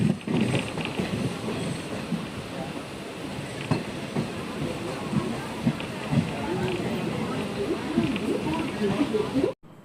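A Jan Shatabdi Express train rolls into Tiruppur railway station with rumbling, rattling carriage noise and occasional clanks, steady throughout, with voices faintly mixed in the background.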